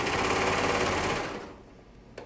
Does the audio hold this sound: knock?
no